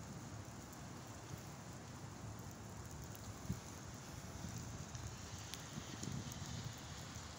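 Steady rain falls outdoors in Columbus, Ohio, a constant broadband hiss of drops on surfaces with a few louder drips and taps, no voices.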